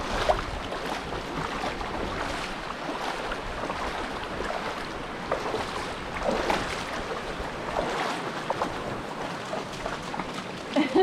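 A shallow river rushes and splashes around someone wading down its middle, a continuous close broadband wash with intermittent sloshing steps, and a dog nearby.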